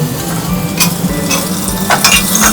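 Chopped vegetables sizzle and fry in hot oil in a pan as they are stirred for a veg pulao, with steady crackling throughout and scraping clinks of a utensil against the pot.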